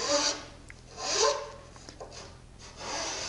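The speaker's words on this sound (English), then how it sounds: "I use a knife file to clean up this little detail" Knife file rasping into the corner of a pallet wood door jamb detail: a few short, close strokes of dry filing, each a brief scratchy rasp with pauses between, no talking.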